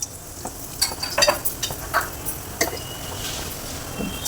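Cumin seeds crackle and sizzle in hot oil, a steady close-up fry with scattered pops and clinks of a spoon against the pan, with no voices.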